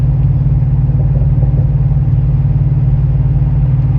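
A steady, deep exhaust rumble from an idling 6.6-litre GMC pickup truck with a Borla ATAK performance muffler, low and throaty without revving, constant throughout.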